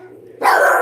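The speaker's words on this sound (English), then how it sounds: "Sorry for the dogs barking." A dog gives a single sharp, loud bark partway through, after a short quiet moment.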